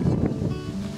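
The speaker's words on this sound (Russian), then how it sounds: "но все равно очень сильный ветер даже" Strong wind gusts through a sheltered skerry inlet on Lake Ladoga in Karelia during a kayak trip, a steady low rushing roar with buffeting on the microphone that never lets up.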